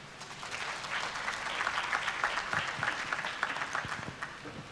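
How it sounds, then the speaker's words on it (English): Steady applause from a sizable crowd at a graduation ceremony, sustained clapping filling the space for several seconds. "Another clap for him, please."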